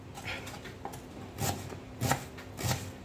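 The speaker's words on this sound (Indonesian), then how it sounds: "Potong-potong kecil-kecil gini, nanti dicampur bawang, bawang putih, bawang merah." A knife chops spring onions into small pieces on a board for an omelette, giving a few sharp, spaced strikes with light rustling between them, quiet and close.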